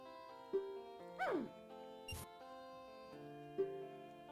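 Racing dogs in the Zelda: Majora's Mask video game give a few brief, faint yips and barks over quiet, steady game music.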